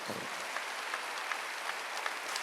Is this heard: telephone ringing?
no